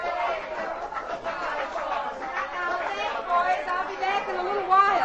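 A crowd murmurs and chatters throughout a frontier saloon in an old-time radio drama, a busy indoor hubbub of many overlapping voices with an occasional chuckle, steady and moderately close.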